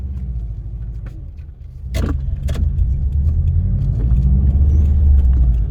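Subaru Forester XT interior with a low engine rumble and road noise that builds as the car picks up speed, a couple of sharp clicks partway through.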